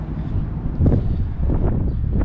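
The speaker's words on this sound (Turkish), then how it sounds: "Şu anda serin, rüzgar var" Cool wind blows outdoors at the Hamburg Landungsbrücken waterfront, buffeting the microphone in a loud, continuous low rumble with gusty surges.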